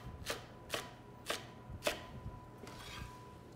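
A knife chops grilled, charred romaine lettuce on a cutting board with four or five crisp, evenly spaced strokes, close and fairly quiet, with no talking.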